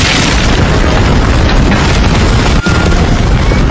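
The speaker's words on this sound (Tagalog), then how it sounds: "sumabog na nga ang pangatlong bomba na itinanim nila Beyond Netero" A bomb blast in an anime battle, a loud, continuous roar of explosion noise filling the whole stretch with one brief dip near the end, no voices over it.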